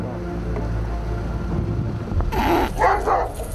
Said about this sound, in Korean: 뭐가 불만인지 신경질적으로 짖는 모습이 한눈에 보기에도 흥분한 상태